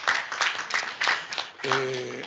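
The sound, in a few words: audience applause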